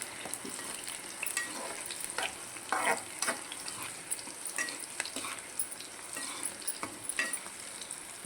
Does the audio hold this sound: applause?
no